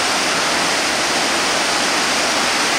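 The Uçansu waterfall in Turkey roars as a loud, dense, unbroken rush of falling water, steady throughout and close by, with no voices.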